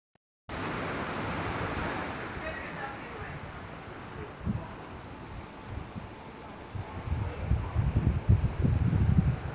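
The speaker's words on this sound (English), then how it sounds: "just the sound of the waves was just," Ocean surf washing against a cruise ship at sunset on the Liberty of the Seas, a steady broad rush of waves with louder swells building toward the end.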